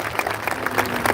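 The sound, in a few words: audience applauding to welcome Brother Shafi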